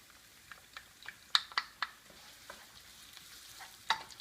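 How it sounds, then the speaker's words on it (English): Diced red onion and garlic sauteing in a pan for pasta al diavolo, with a soft continuous sizzle broken by a few sharp scraping stirs, near and fairly quiet, no talk. "I'm going to saute that a little bit."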